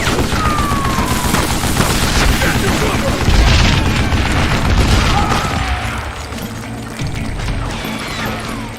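Gunshots and explosive booms ring out in the Western shooter Call of Juarez: Gunslinger, dense and loud throughout, with a louder burst near the middle, while a voice talks over the fire.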